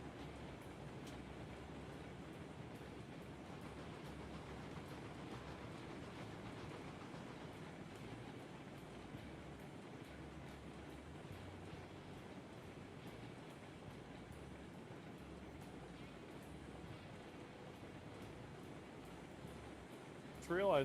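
A train in the railroad video game Railroads rumbles with a steady rolling drone and a rhythmic clickety-clack of wheels, continuous and moderately faint.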